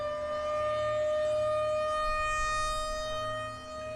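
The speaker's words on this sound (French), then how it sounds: "ça a l'air d'être une sirène d'alerte de la ville" A city civil-defense warning siren wails in a steady sustained tone with strong harmonic overtones, loud and continuous, dipping slightly near the end, with no voices.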